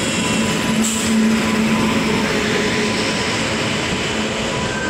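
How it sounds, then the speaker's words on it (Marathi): Loud, continuous rumble of the Goa Sampark Kranti Express arriving at a platform, rolling alongside at close range, with a steady roar and a brief hiss partway through, no voices. "आणि ट्रेन आपली आलेले आहे प्लॅटफॉर्म नंबर 2ला."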